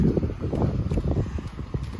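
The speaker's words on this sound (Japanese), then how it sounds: "だいぶ風吹いたね" Strong typhoon wind in Yatsushiro, Kumamoto, buffets the microphone in a continuous rough roar with uneven gusts that swell and ease throughout. No voices are heard.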